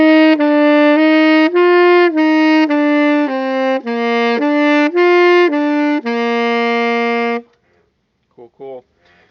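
A wind instrument plays a loud, close run of about a dozen notes, slurred in pairs and rising and falling in a steady rhythm, ending on a long held note, followed by a brief voice.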